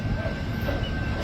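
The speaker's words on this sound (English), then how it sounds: "The train is coming!" A train rumbles steadily past a railroad crossing at Garfield and Industrial, a close, loud, continuous roar with a faint high squeal and no gaps, filling the whole moment.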